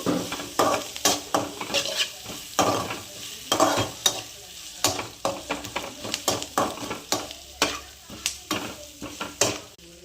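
Curry leaves fry in a pan with mustard seeds, cumin and green chilies: a close, lively sizzle under rhythmic scraping and clinking of a spatula against the pan.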